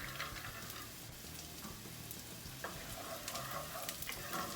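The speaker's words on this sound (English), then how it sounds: "We'll get these walnuts coated with the oil, and we're just going to cook these for about a minute" Chopped walnuts frying in olive oil in a frying pan, a soft continuous sizzle with small crackles and faint stirring scrapes, close but quiet.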